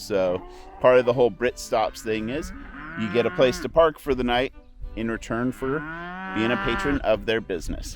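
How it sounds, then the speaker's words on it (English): Cattle moo repeatedly in the background while someone talks steadily over them, the lowing drawn out and fairly close. "cattle, because you can hear them right now"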